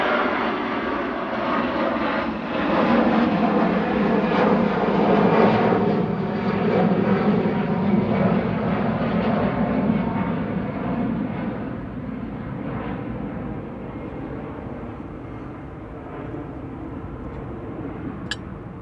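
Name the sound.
EasyJet Airbus A320 passenger jet at Manchester Airport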